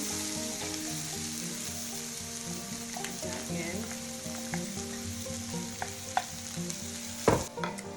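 A yellow onion frying in rendered pork fat for a wild rice dish gives a steady close sizzle with occasional stirring scrapes and a sharper clatter near the end, over a low background hum.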